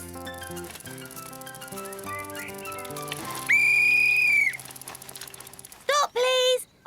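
A cartoon traffic officer blows a whistle in one long, loud, steady shrill blast, followed by two shorter sharp toots, over busy cartoon music and mechanical clicking.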